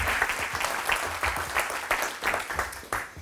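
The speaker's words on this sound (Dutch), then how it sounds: "Mag ik een applaus voor Irene Herperts?" An evening lecture audience applauds the speaker Irene Herpertz, a full room of clapping in steady, slightly pulsing bursts that carries on for several seconds, close and fairly loud.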